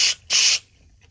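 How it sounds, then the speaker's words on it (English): Brake cleaner sprays from an aerosol can into the carburetor of a Honda 8hp outboard: two sharp hissing bursts, the second longer, close to the microphone and followed by quiet. "Give it a bit of a spray in there as well. Some brake cleaner."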